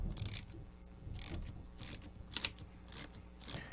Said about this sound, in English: So let me just tighten this up. All right, I just use an Allen wrench, and I have a little socket wrench to make things easier.